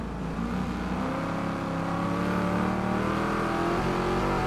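A race car engine in the video game Wreckfest 2 roars steadily and loudly throughout, heard from the hood camera during an enduro race at Dalsbanen, its pitch shifting slightly as it revs, with no talking.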